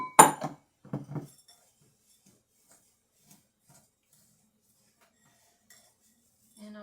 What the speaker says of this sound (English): you just want to mix it till it becomes crumbly